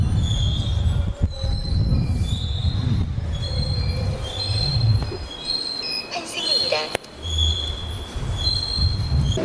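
Subway train arriving at a station on a Pyeongtaek-area line: loud metallic wheel squeals ring out in sustained high tones over the rumble of the cars, with a sharper screech near the middle and a brief thump.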